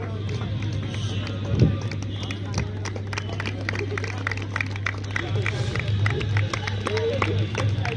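Applause from an audience at a football tournament ceremony at a college: a dense patter of clapping and crowd murmur that builds toward the end, with a faint voice in the background.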